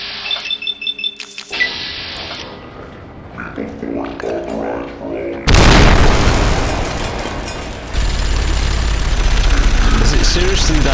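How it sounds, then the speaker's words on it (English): A frag grenade goes off in Fallout: New Vegas, a sudden loud explosive burst after quieter game sounds, followed by a sustained roaring rumble that stays strong to the end. "Let's see what other grenades I have. Frag grenades."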